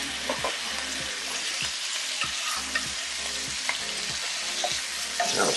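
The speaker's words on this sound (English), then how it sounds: "Bacon's next. We need 4 slices of bacon." Four bacon slices fry in a pan with a steady, bright sizzle and scattered crackling pops, close and continuous with no voices.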